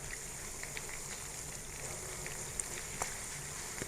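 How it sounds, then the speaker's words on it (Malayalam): Chicken pieces frying in hot coconut oil give a steady, close bubbling sizzle with a few sharp pops and crackles spread through it, and no voices. "ചിക്കൻ ഫ്രൈ ആവുന്നുണ്ട് വെളിച്ചെണ്ണയിൽ"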